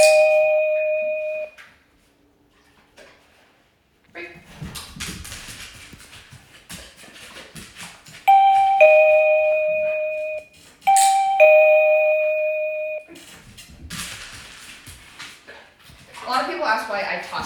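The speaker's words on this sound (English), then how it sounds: "the doorbell sound being the cue to go" A household doorbell chimes three times, each a bright two-note ding-dong ringing out clearly, with a person talking in the pauses between rings.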